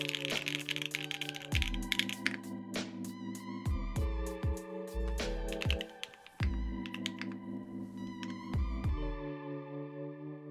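Fingers type on a Tofu 65% mechanical keyboard, producing quick, uneven clusters of sharp keystroke clicks that run throughout, layered over sustained tonal background music.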